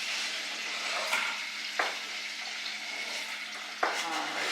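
Onions tipped into a pan of melted butter and oil hiss into a steady broadband sizzle, with a few sharp clinks of a utensil against the pan; no talking.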